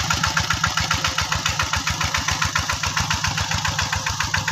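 Small farm tractor engine running steadily at idle, a close, loud, rapid rhythmic chugging with even regular firing pulses throughout and no voices.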